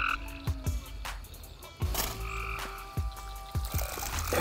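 Frogs croak repeatedly near water at night during frog gigging, a series of deep rhythmic croaks, some close and loud, over a dense chorus of insects and frogs.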